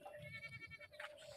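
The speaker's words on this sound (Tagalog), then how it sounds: "Kuya Sinte, dami mo ng kambing." Goats bleat on a Filipino farm, a couple of wavering nasal cries close by, with no talk over them.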